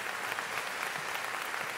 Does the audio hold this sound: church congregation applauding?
yes